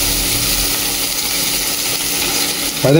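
Onions go into hot oil in a pan for a tilapia and drumstick fish curry, a steady loud sizzle running throughout that swells with a fresh burst of spattering near the end as the onion hits the oil.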